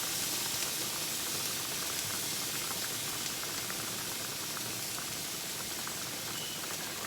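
Dry, seasoned shrimp searing in a pan on a stovetop, giving a steady, dense hiss and sizzle that holds evenly from start to finish with no voices.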